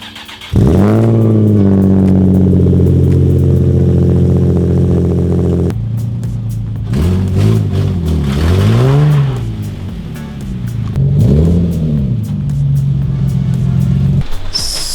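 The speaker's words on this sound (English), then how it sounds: "I'll pull the car into the driveway" A Nissan 350Z engine idles close by, then revs and rises in pitch several times as the car creeps forward into a driveway, settling back to a steady idle.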